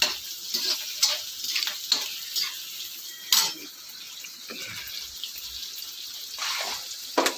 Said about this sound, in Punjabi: ਪਿਆਜ਼ਾਂ ਦੀ ਲੜੀ ਚੱਲ ਪਈ ਤੜ ਤੜ ਤੜ ਤੜ